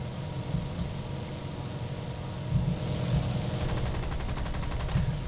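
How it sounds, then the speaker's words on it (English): Mosquito Mk XVIII aircraft guns strafing a runway in the War Thunder video game, heard as a dense, continuous rattle of rapid gunfire under engine noise, with sharper bursts toward the end. "I'll just strafe them on the runway."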